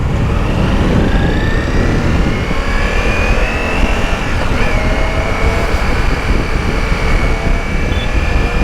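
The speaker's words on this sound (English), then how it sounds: "In terms of exhaust, it feels refined," Steady, loud engine roar from a Ducati Multistrada V4 Pikes Peak motorcycle while riding, a continuous droning exhaust note with rising and falling whine over wind noise, close and sustained throughout with no talking.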